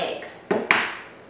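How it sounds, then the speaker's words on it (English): An egg cracked into a bowl while making upside-down creamy rhubarb cakes: two sharp, close taps about a fifth of a second apart, the second a brighter crack, in a quiet kitchen. "I crack it into another bowl just to make sure that there's no shells in here"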